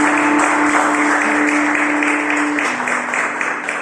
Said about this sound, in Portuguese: E a minha salva de palmas para o Senhor